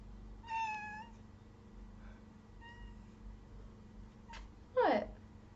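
A cat meows twice, first a clear harmonic meow near the start and a fainter one around the middle, then a louder, rising meow near the end, over a steady low hum with no talk.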